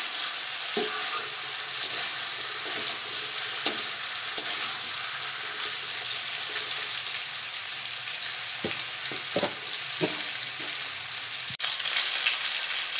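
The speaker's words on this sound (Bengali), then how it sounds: "চুড়াইটা দিয়ে দিলাম। আর ভালো করে মিশিয়ে দিলাম।" Ridge gourd pieces frying in a wok give a strong, steady oily sizzle, with occasional soft scrapes and knocks from stirring, close and continuous, no voices.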